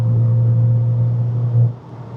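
Audi A4 DTM engine note through its exhaust, a steady low drone that holds close and loud for about a second and a half, then dips and fades away near the end.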